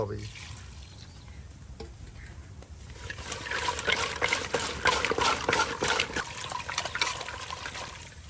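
Water splashes and trickles steadily as vines and fish are washed together for a village-style fish curry, the sound growing busier and louder in the second half.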